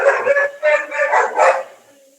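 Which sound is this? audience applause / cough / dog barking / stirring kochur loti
dog barking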